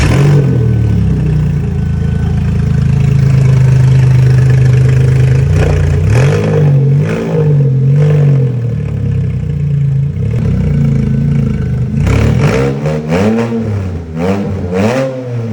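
A Porsche 987 Boxster S flat-six with its exhaust removed, running loud and raw: a steady high idle, then repeated sharp revs that climb and fall, with clattery mechanical noise throughout.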